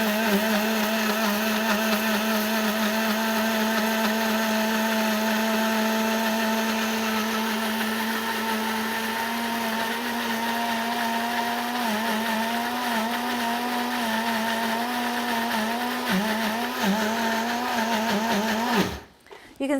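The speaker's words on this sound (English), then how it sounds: "you can see that the mustard's still not broken up enough and it's a bit sort of watery, slushy" Blender grinding mustard seeds with salt into a watery, slushy mix, a loud, steady motor whine with shifting pitch that runs throughout and cuts off abruptly near the end.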